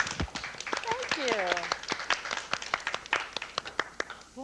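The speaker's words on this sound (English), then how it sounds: "Let's clap for Polly." Children on a 1980s TV show clap in a loose, uneven patter of distinct claps close by, while people talk over them and a brief high voice sounds near the start.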